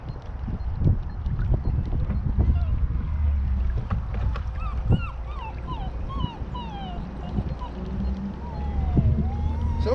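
A dog whines again and again aboard a Vibe Seaghost kayak fitted with a Bixpy motor, thin rising and falling cries over steady wind and water noise on open water.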